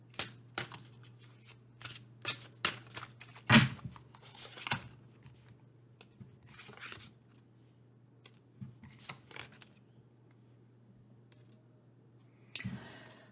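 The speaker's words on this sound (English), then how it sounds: "So as I was shuffling that" Tarot cards being shuffled in irregular bursts of quick papery riffles and taps, close and fairly quiet, with a low steady hum beneath and longer pauses between handfuls.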